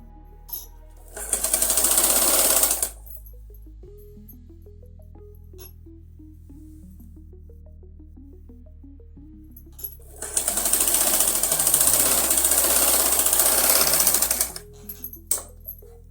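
A sewing machine stitches a fabric strip in two loud, fast bursts of whirring, separated by a quiet pause with faint handling clicks.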